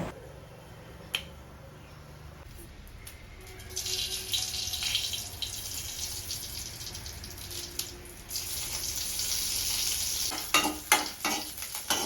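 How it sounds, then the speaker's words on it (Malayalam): Hot oil sizzles steadily as mustard seeds crackle and pop for tempering a coconut dish, the spluttering growing louder and denser toward the end, with sharp snapping bursts near the close. "അങ്ങനെ കടുക് പൊട്ടി അതിലേക്ക് ഒഴിച്ചു"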